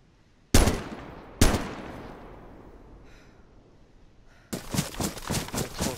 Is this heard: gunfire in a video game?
yes